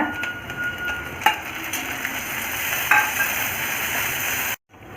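Onion, curry leaves and tomato sautéing in a pan, a continuous sizzle broken by a couple of sharp stirring clacks from a utensil, cutting off abruptly near the end.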